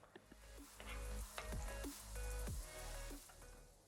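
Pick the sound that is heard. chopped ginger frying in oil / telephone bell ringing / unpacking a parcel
chopped ginger frying in oil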